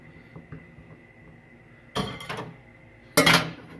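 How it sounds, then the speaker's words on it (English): A quiet room hum, then two sharp clattering knocks about a second apart as a hard plastic microwave turntable roller guide is set into place. "Now we're going to put our little roller guide back inside."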